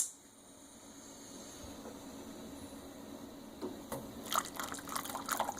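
German chocolate pie filling being poured back into a saucepan: a faint, quiet trickle and drip of thick liquid, ending with a few light clinks and splashes near the close.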